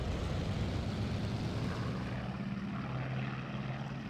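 A propeller-driven carrier aircraft's engine drones steadily in a flight simulator as the throttle eases up on deck, a continuous loud rumble with a low tone that shifts slightly partway through.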